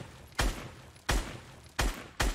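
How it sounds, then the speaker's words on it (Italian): Four evenly spaced shots from a SCAR rifle in a video game aim exercise, each a sharp, fairly loud crack with a short tail, separated by quiet gaps. "dovrete passare così, sparare con lo scar."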